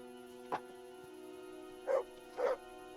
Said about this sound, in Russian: Пес.